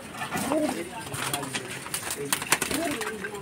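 Madras pigeons kept in a Kolkata loft give low, rounded coos that swell and fade twice, close by, with someone talking over them and background noise throughout.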